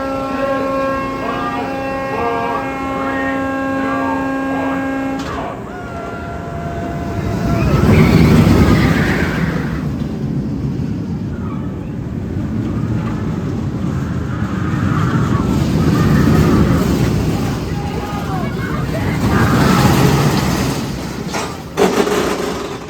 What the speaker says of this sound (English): Just went back and forth and back again, yet again, on Boomerang here